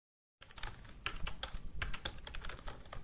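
Quick bursts of typing on a computer keyboard while entering text in PowerPoint, with rapid close key clicks in irregular clusters after a moment of silence at the start, and no voices.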